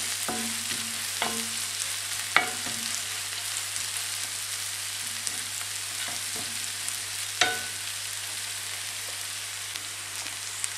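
Onions caramelize in a pan with about a tablespoon each of balsamic vinegar and sugar, giving a continuous soft sizzle with several sharp stirring scrapes and taps.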